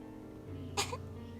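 One short, sharp cough breaks through a low background hum, close and brief.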